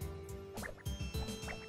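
Water dripping in the Arkedo Series 03 Pixel video game, a run of plinking droplet sounds in quick succession over a steady game background, with no talking.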